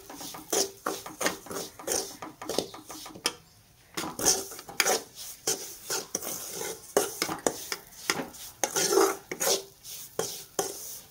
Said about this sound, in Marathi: आणि रवा छान भाजून घेऊया